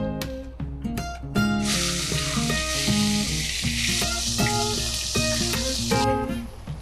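Chicken goes into a hot pan for achari chicken and bursts into loud sizzling, a bright hiss that holds for several seconds over clattering and stirring in a kitchen.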